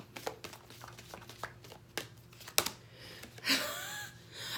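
Tarot cards shuffled by hand give soft, irregular papery flicks and taps with a brief riffling swish near the end, close and fairly quiet.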